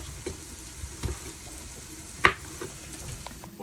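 Chopped red and green peppers sizzle softly in a casserole, a faint steady frying hiss broken by a few light taps and stirring clicks.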